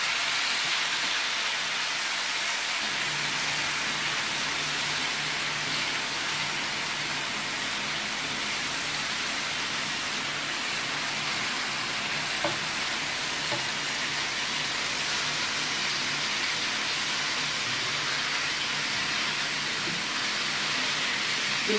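Onion and peppers frying in a pan give off a soft, steady sizzle, an even hiss that continues unbroken and fairly quiet throughout.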